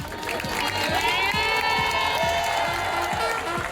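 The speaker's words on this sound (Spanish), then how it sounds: "Con aplausos fue despedida por el personal médico." Hospital medical staff clap to send off a recovered coronavirus patient, a dense, continuous applause from a nearby group mixed with cheering voices throughout.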